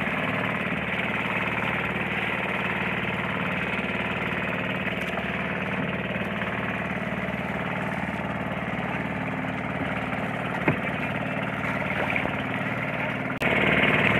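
A motorized fishing boat's engine runs with a steady, loud drone as it tows a second boat across the water, its tone holding constant for the whole stretch.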